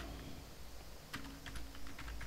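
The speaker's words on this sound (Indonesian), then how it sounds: "Kemudian ketik harga barang." A few soft computer keyboard keystrokes as a price is entered into a database form, faint and close over a steady background hiss, with no talking.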